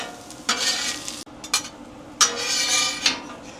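Onions frying on a Traeger griddle: a steady sizzle swelling in several loud bursts as a metal spatula scrapes and stirs them across the hot flat-top, with no talking.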